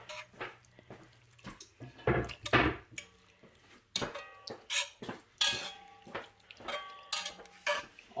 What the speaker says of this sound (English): Maybe we'll stir it up a little bit to get it all incorporated.